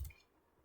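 A single soft mouse click on a computer, brief and close, followed by a faint second click at the end, with no talking.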